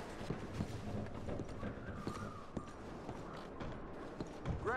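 Horses in the Red Dead Redemption 2 video game walk with a soft, irregular clip-clop of hooves, and faint creaks and rustling from their gear are heard over a busy ambient background.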